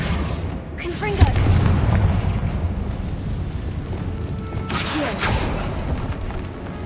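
A blasting spell goes off in a video game as a booming explosion with a rumbling low burst, followed by a second blast a few seconds later, loud and close.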